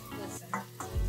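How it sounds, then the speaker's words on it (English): Eggs fry and scramble in hot bacon grease, giving a close, steady sizzle with brief stirring scrapes over about a second. "Time to get in that bacon grease and start scrambling some eggs."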